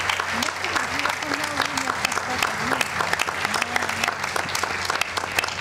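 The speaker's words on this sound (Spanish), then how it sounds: "El aplauso para ellas." Audience applause at an International Women's Day awards ceremony honouring women city councillors, sustained clapping from a crowd with a voice speaking over it.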